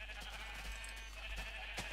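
Sheep in the Minecraft video game bleat a few times in short calls over a steady background hum, moderately close.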